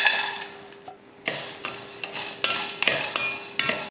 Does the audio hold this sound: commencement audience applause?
no